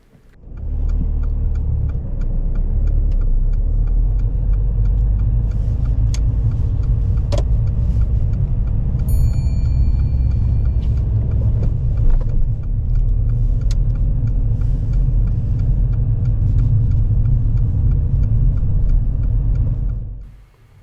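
A learner driver's car cruises along a road during a mock driving test, its engine and tyre rumble steady and close from inside the cabin, with no one talking over it.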